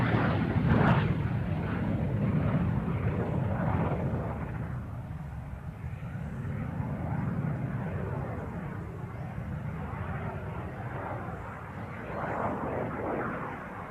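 A T-33 jet trainer at an airshow gives off a steady, broad roar that swells and fades gently over about fourteen seconds, heard at a distance with a rumbling low end.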